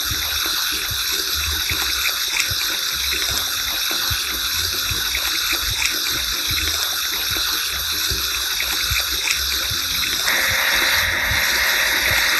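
Water spraying steadily to wash an earth mover in a children's mobile game: a continuous bright hissing rush, loud and unbroken, growing slightly stronger near the end, with no speech.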